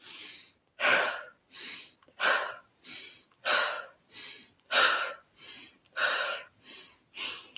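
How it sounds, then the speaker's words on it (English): Close, deep breathing from a yoga class: around a dozen strong breaths in a steady rhythm, alternating fuller and softer pulses with short quiet gaps between them, and no speech. "You might be breathing out through the mouth."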